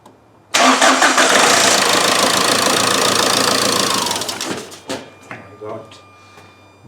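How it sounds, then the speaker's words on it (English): A Ford Transit Connect 1.8L Duratorq TDCi diesel cranks loudly for several seconds with a harsh, rattling engine churn that then fades into a few scattered clunks and knocks, as if failing to catch. "now I'm going to start the engine."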